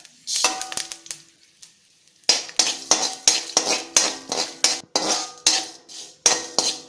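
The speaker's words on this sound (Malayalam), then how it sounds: "അതിൻ്റെ കൂടെ കടുകും കൂടെ ചേർത്ത് കൊടുക്കുക" Mustard seeds and asafoetida stirred in hot oil for a pickle, a ladle scraping and clinking against the metal pan in a quick, steady rhythm, close and loud, after a short pause.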